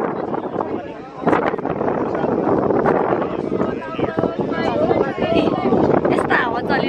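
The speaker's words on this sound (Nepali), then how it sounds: "यस्तो हावा चलिरहेछ" Wind gusts across an open hilltop at Kaji Kalupande's memorial with Himalayan views, roaring steadily into the microphone while friends chatter and laugh over it.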